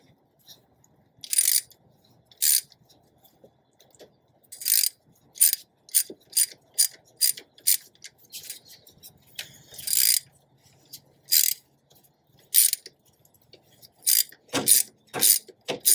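Ratchet wrench tightening battery terminal bolts on a Toyota FZJ80 Land Cruiser, a series of close, crisp clicking bursts in irregular rhythm, separated by short pauses.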